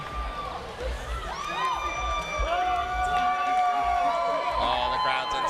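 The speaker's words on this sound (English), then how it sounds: "Oh, the crowd's into this one." A crowd cheers and shouts at an arm wrestling match, rising and swelling through the clip, with whoops and high voices over the din and a commentator talking underneath.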